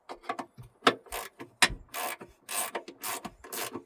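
10mm ratchet loosening the battery tie-down on a Toyota Tacoma, a series of quick clicking ratchet bursts in an irregular rhythm, close and fairly loud.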